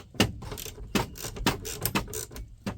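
A socket wrench ratchets in quick clicking bursts while loosening bolts on the interior trim of a 1994 Ford F-150, the faint, close pawl clicks coming in an uneven rhythm.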